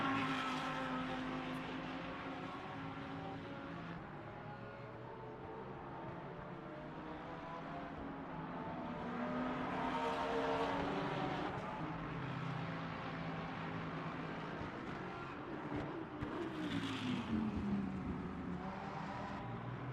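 Race cars lapping the Barcelona circuit in the Le Mans Ultimate sim racing game, several engines droning and rising and falling in pitch as they accelerate and pass, steady and moderately loud throughout.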